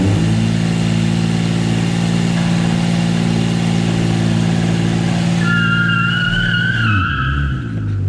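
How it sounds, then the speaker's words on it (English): Toyota MR2 with a 1MZ-FE V6 swap revving hard in neutral, a loud sustained engine drone with strong low harmonics that shifts pitch near the end, joined by a high squealing tone. "Hold it, put it in neutral, rev it up, and then rag it into drive."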